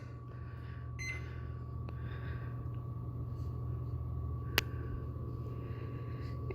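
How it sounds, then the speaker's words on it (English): A microwave oven runs, heating a bag of tie dye set in a bowl: a steady low hum with a faint constant tone, joined by a few small clicks and one sharp tick. "I have my bag in a bowl, and I'm putting it in the microwave and setting it for 5 minutes"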